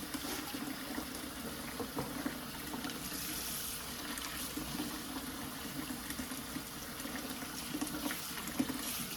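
Herb and soursop leaves being washed by hand in water, a steady close splashing and trickling wash that runs continuously with no talking.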